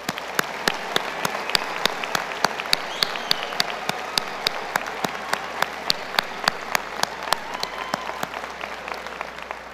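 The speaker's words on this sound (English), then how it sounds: "let's collectively join in one more round of applause for all the graduates" Commencement audience at a university graduation applauding the graduates, steady crowd clapping with a few sharp nearby claps standing out, continuous and moderately loud throughout.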